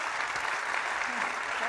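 Audience applause filling a plenary hall at a performing arts conference opening session in New York, a dense, steady wash of clapping that holds evenly throughout.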